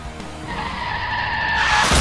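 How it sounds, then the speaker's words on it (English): Car tires squeal in a long, rising skid as a vehicle spins out during a GTA 5 race, loud and close, with engine noise building toward the end. "Oh, he spun me out."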